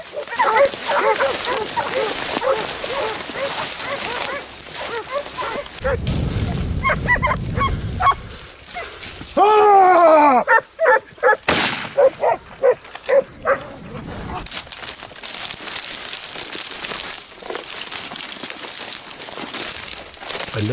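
During a wild boar hunt in thick reeds by a lake, hunting dogs bark and yelp in loud, excited bursts over rustling brush and crackling noise, and one stretch carries rising whimpers.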